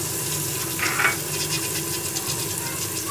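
Carrots, cabbage and other vegetables frying in a pan for biryani, a moderate continuous sizzle with a brief brighter clatter near the start, no voices.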